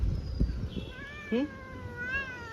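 An angry cat lets out a couple of drawn-out, wavering meows over a steady background hum, the loudest cry rising sharply near the middle.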